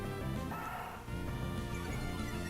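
Zigzagoon's Growl cry in Pokemon Sapphire, a loud, harsh, dog-like electronic bark that fills the whole moment and sits over continuous game music.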